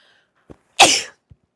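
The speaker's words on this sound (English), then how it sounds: "Oh my God, I need to sneeze." A single sharp sneeze, close and loud, preceded by a short intake of breath and followed by a small sniff.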